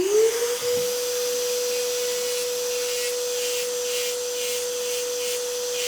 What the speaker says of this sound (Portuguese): Mas vou utilizar o aparelho de polimento por ser mais prático